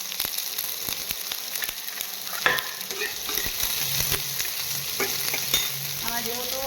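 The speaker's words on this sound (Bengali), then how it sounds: "আমি পেঁয়াজ আর পটলটা না আমি একসাথে দিয়ে দেবো তাহলে পটলটাও একটু লাল লাল করে ভাজা হবে" Onions and pointed gourd frying together in a pan, with a steady close sizzle and a scatter of spatula scrapes and knocks as the pieces are stirred.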